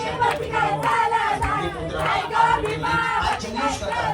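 Spectators roar and cheer at a local premier league cricket match during a tense final over, a loud sustained crowd of voices shouting together in rising and falling waves.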